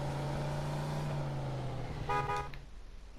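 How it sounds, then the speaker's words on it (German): Car horns honk in the city streets of the Mafia 2 Definitive Edition game. A drawn-out low horn sounds over traffic, then a short higher toot follows. "Oh, die Autofahrer hier sind so unentspannt. Gott. Mit jedem Scheiß hupen"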